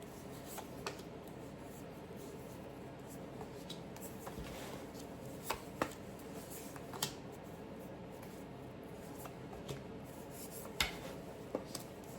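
A deck of tarot cards is shuffled and flipped: soft, steady papery rubbing and riffling with a handful of sharper snaps scattered throughout, close and quiet, with no talking.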